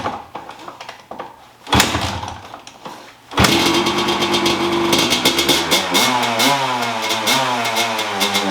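A cold 1992 Honda CR250 two-stroke dirt bike coughs through a couple of failed kicks, then catches and runs roughly, the engine bogging and sputtering unevenly at close range.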